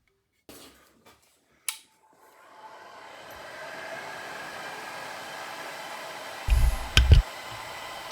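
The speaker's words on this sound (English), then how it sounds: "Starting off with a heat gun." A heat gun blows a rising, steady whoosh of air to soften the adhesive on a broken GoPro lens, after a few clicks and handling knocks, with louder bumps near the end.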